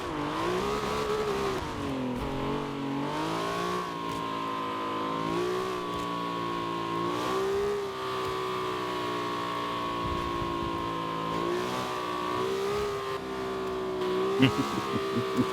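A car drives steadily along, its engine holding a droning hum that rises and dips with gear changes and throttle, ending with a few faint clunks; nobody speaks.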